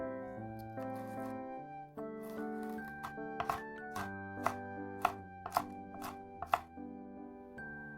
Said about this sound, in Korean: 안에 씨를 제거하고 잘게 다져주세요.